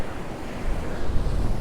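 Rough waves break against a concrete promenade on a windy Mallorca coast, a continuous roaring rush of surf building into a heavier low surge, with gusty wind rumbling across the microphone.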